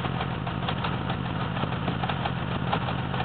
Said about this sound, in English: There is a very, very slight miss on idle